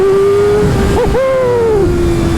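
A motorcycle engine roars hard after a downshift, its pitch dipping briefly at the gear drop before climbing again in a loud, close, continuous run of acceleration.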